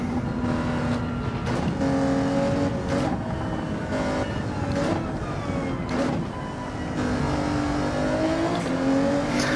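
An Alfa Romeo 155 race car engine in Gran Turismo 7 revs loudly up and down through the gears, its tone rising and dropping with each shift, close and continuous.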